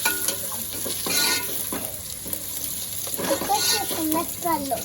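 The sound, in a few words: stirring cumin into frying spices in a pan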